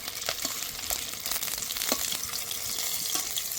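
Pieces of katla fish fry in hot oil, a continuous close crackling sizzle with scattered pops and faint scraping.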